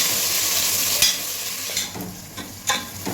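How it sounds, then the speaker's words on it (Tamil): Green chillies and onion sauté in a hot pan with a steady sizzle, broken by a few soft scraping stir strokes, close and moderately loud with no talking. "இப்போ 2 பச்சை மிளகாய், இது நல்லா வதங்கிட்டேன்."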